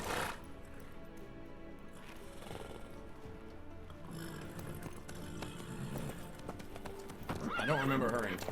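Horse hooves clip-clop steadily in the video game Witcher 3, with a whinny rising near the end, all over a continuous game music and ambience bed and faint voices.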